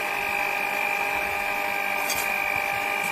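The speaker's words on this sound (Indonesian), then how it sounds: "Nyalakan di kecepatan rendah dulu ya" An electric stand mixer kneads donut dough at low speed, a constant mechanical hum and whir with steady tonal whine, moderately quiet and continuous, with no talking.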